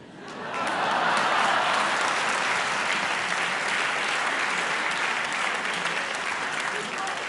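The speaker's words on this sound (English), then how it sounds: "one more round of applause for Robert Rosencrantz" A large debate audience breaks into applause, rising quickly to a loud, dense, sustained wash of clapping that holds steady to the end.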